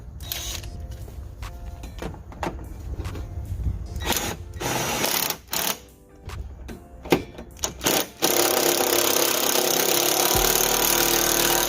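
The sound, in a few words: socket wrench running down a bolt on a rear shock absorber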